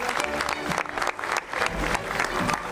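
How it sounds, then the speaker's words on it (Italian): Audience at the Sipario d'Oro 2019 award ceremony claps in a brief, dense burst of applause, close and steady throughout. "applauso"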